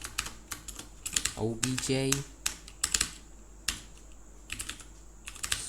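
Close clicky keystrokes from a computer keyboard while C++ code is typed, coming in quick irregular bursts with short pauses, and someone briefly talks partway through.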